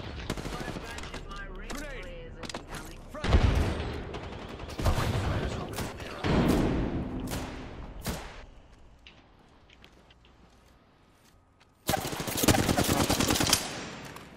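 Bursts of automatic gunfire in the Apex Legends battle royale, loud rapid volleys in several clusters with brief pauses between, ending in a heavy sustained burst, with players talking faintly in between.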